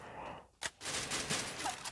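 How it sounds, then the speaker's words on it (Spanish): Shotgun blasts in the Free Fire battle royale game during a tournament final, a sharp loud shot followed by rapid gunfire crackling through the rest, faint overall with game noise around it. "Con la escopeta dos tiros, amigo"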